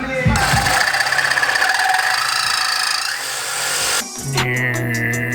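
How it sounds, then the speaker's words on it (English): A power saw whines loudly and continuously in a garage during work on a turbo Civic, then stops and restarts with a higher, pulsing cut toward the end. "That's the sound of the saw."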